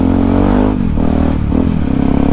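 A Yamaha WR motorcycle fitted with a new Radamel F4-1 aftermarket exhaust runs loud and close, its engine note steady, then dipping and rising again as the throttle shifts.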